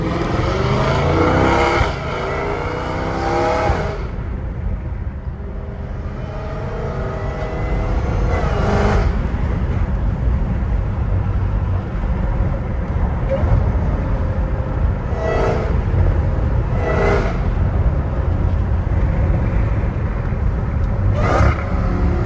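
Dodge Hellcat Redeye with a titanium exhaust driving past in traffic, a loud rumbling engine roar that swells and fades, with sharp passing whooshes and a steady road drone throughout.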